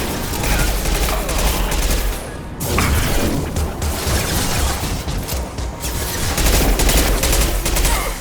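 Dense, continuous gunfire in the video game Mass Effect 2, rapid overlapping shots, blasts and crashes in a loud battle din with brief lulls between bursts.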